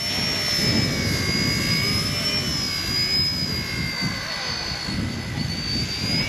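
An ERA UH-1 RC helicopter spins up with a steady, loud, high electric whine and rotor wash close by, sustained throughout the clip while someone talks over it.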